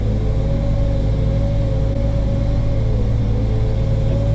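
A Massey Ferguson 7618 tractor hauls a slurry tanker across wet ground, its engine holding a steady, heavy drone that stays loud and constant throughout, heard from close by with no voices.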